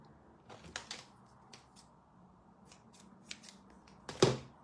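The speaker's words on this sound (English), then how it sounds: "Snip them off." Scissors trim the tails off ribbon bows on paper labels in quiet, close, crisp snips, a few scattered cuts with a louder final snip.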